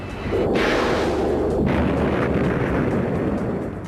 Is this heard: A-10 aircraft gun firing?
yes